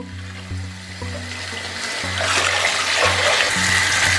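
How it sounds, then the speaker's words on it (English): A bleach tie-dyed shirt rinsed under running water, with a loud, steady gush of water splashing over fabric and growing fuller over a few seconds, alongside a low hum; no talking. "So I am rinsing off the third shirt."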